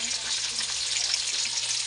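Steady, dense sizzling of tambakol tuna frying in hot oil in a pan, continuous and fairly close, with no talking.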